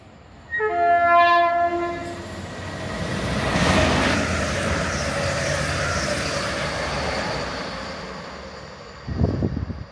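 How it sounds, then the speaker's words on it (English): An EMR Class 158 diesel passenger train rumbles at Grantham station, its horn sounding in a series of long steady tones early on, then engine noise swelling and fading with a thump near the end. "it was time to board my EMR train to take me to Norwich"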